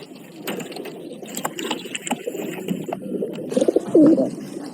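Several pigeons coo inside a coop, repeated low rolling calls close by amid soft rustling and bumps, with one louder coo near the end.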